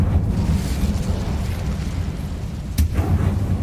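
An Incendio fire spell goes off in a Harry Potter video game, a broad roaring burst that holds steady for several seconds, with a sharp crack near the end, loud and close with no talking.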